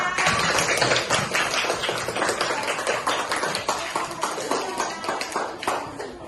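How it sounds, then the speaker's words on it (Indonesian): Dense, continuous clapping from a classroom audience, steady and fairly loud for several seconds with no voices over it. "Ya betul, tepuk tangan."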